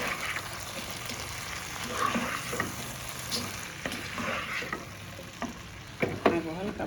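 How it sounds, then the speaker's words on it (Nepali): Squid and mixed vegetables stir-fry in a hot pan, a constant close sizzle broken by repeated scraping and tossing of the spatula, with a louder clatter near the end. "अब यसमा सँगसँगै लगाउँदैछु म यो भेजिटेबल, अनि लाएर मजाले चलाउने है"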